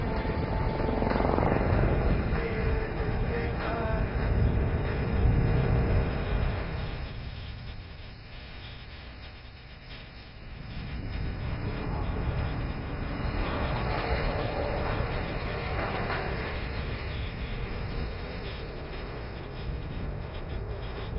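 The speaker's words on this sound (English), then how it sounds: "The helicopter will execute a steep, rapid ascent to gain altitude and level off at the top" A military helicopter at the Aero India air show at Yelahanka air force station, a loud, continuous rotor and engine drone that dips in the middle as it climbs and then swells back, heard from a distance with no talk.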